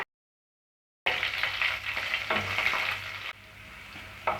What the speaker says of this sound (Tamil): பூண்டை கொஞ்சம் லைட்டாக வதக்கி விட்டுக்குங்க